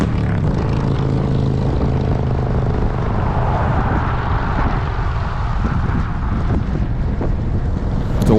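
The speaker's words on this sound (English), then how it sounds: "the wind is coming from the right, and then behind us also. But it's out here, it's swirling around." Strong, swirling wind buffets the microphone while cycling on an open road, a constant loud roaring rush with gusty swells and no voices over it.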